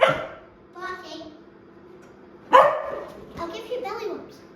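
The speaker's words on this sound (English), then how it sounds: "Barking." A dog gives a couple of sharp barks close by, with a voice and other speech around them.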